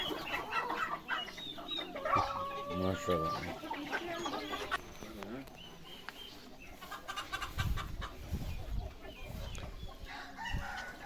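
Chickens cluck and a rooster crows nearby amid a busy farmyard, with people talking over the birds throughout.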